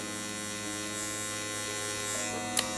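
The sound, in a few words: electric beard trimmer buzzing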